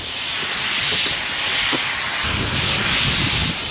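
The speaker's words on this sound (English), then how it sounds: "Now that is just red hot steam just coming out the ground" Geothermal steam venting from the ground on lava fields in Iceland, a continuous broad roaring hiss that rises and falls slightly throughout, loud and steady with no one speaking.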